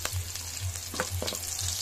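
Garlic sizzles in a hot pan for a Filipino chop suey with longganisa, a steady crackling fry with soft periodic scraping from stirring and no talk.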